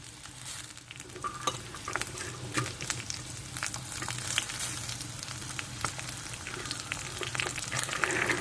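Curry leaves and onions crackle and sizzle in hot oil for a brinjal and green pea curry, with steady frying hiss, scattered pops and occasional stirring scrapes, heard alone and close.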